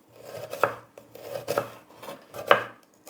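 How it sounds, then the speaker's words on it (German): A knife chopping an onion on a board in a home kitchen, three distinct sharp cuts spaced about a second apart, close and crisp, with faint soft scraping between them and no talk. "wenn ihr die Zwiebel ungefähr so hält, dann einfach so schneiden"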